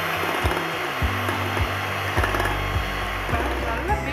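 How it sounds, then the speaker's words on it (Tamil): An electric mixer whips egg whites for cashew macaroons, a loud, steady motor whine with strong harmonics and small rhythmic bumps as the beaters move through the bowl. "இப்ப வெள்ளை கருவு மட்டும் நல்லா பீட் பண்ணிக்கோங்க"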